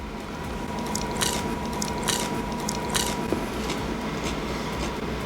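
Crunchy fried mozzarella sticks being bitten into and chewed, with about three sharp, close crunches cutting through a steady background hiss, and no talking.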